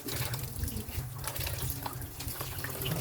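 Tap water runs steadily over pork ribs being washed in a kitchen sink, a constant, close, moderately loud splashing and hissing with no talking.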